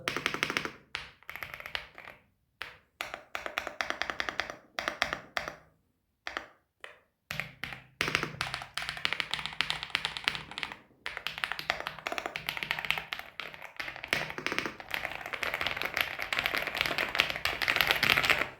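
Fast mechanical key clicks from an RX-Storm RX870 RGB gaming keyboard, close-miked, in dense bursts broken by short pauses, growing busier and more continuous toward the end, with no voices.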